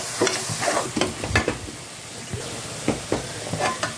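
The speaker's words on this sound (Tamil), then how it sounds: "தேங்காய், இந்த சீரகம், சோம்பு இதெல்லாம் போட்டு அதையும் கொஞ்ச நேரம் பொரிச்சிக்கலாம்" Ground coconut, cumin and fennel paste fries in a pan with a steady close sizzle, broken by repeated scraping stir strokes, no voices.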